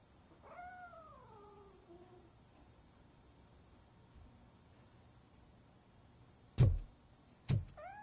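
A cat in the RoboCop: Rogue City video game gives one drawn-out, falling meow, faint against quiet ambience, followed later by two sharp thumps.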